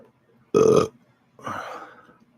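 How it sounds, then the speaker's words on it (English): A single loud, close burp followed moments later by a softer, trailing second belch, both short and alone against near silence. "Sorry about the burp."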